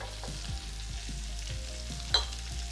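Onions sautéing in bacon grease for brisket chili give off a soft, steady sizzle with faint stirring scrapes and one brief clink partway through, quiet and close.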